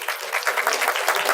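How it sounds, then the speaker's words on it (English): Brief burst of audience applause at an academic lecture session, dense steady clapping from a room of listeners lasting just over a second. "Give them a big round of applause."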